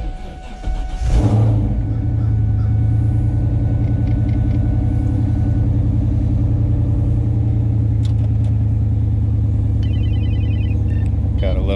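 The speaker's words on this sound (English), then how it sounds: "Here's a little cold start for you guys." A home-built 2002 car engine cold-starts with a brief crank and then settles into a steady, loud, close idle rumble, with a faint ringing tone near the end.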